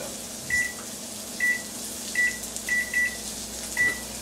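A steady low electrical hum of a microwave oven running, with short high beeps recurring every second or so.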